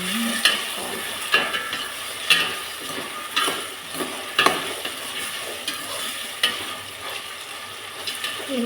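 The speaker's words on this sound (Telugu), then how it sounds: "ఇవి బాగా ఫ్రై అయిన తర్వాత వాటర్ వేసేసుకోవాలి." Vegetables fry in a pan for vegetable rice, a constant close sizzle broken by regular scraping stirs about once a second.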